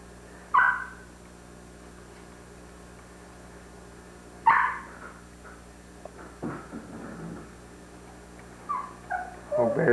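A young puppy gives a few high, thin whimpers and yips, spaced several seconds apart over a quiet steady background hum, near and fairly faint.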